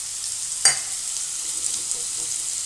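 Vegetables for shukto, a Bengali dish, frying in a pan with a steady soft sizzle and one sharp clink of a spatula against the pan early on, followed by faint scraping stirs.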